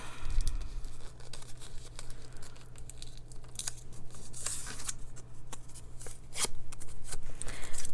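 Paper is folded through the middle and along the diagonals, giving close crinkling, rustling and creasing sounds with soft taps over a low steady hum.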